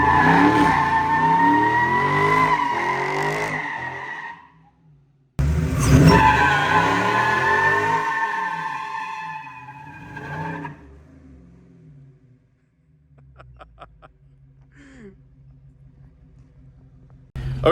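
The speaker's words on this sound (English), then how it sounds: "We've done burnouts with it." A Dodge Charger Scat Pack does burnouts, giving two long, loud bursts of screeching tire squeal over a revving engine, separated by a short gap, then settling into a quieter low rumble with faint clicks.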